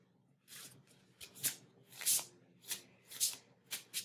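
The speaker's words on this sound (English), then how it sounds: "I'm going to pull another card from that deck just for clarification here." A deck of tarot cards being shuffled and drawn, with a run of crisp riffling bursts in an uneven rhythm, close and soft with no talking.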